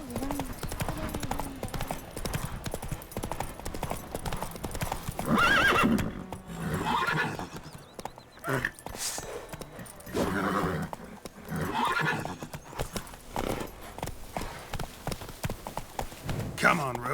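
Roach, the horse in The Witcher 3 video game, gallops with a rapid, continuous clip-clop of hooves, broken by loud neighs and whinnies, all close and prominent over the game's other sound.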